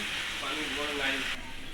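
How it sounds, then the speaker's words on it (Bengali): Goat meat sizzles and hisses as it is sautéed in a pan over a wood-fired stove, a steady close frying sound with a voice talking over it. "খড়ির চুলায় রান্না শুরু করেছেন তাই মাংস প্রথমে আমরা একটু কষিয়ে নেব"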